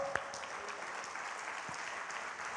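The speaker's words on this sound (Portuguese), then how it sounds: "Aplauda o Senhor." A church congregation claps continuously in a dense, steady patter of applause that holds even throughout, without breaks.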